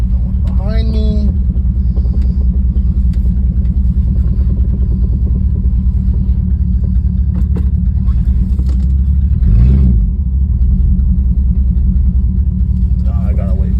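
A 1971 Mercury Comet car is driving with its carburetor freshly cleaned. Its engine rumbles loud and close from inside the car, steady throughout, with a brief swell partway through.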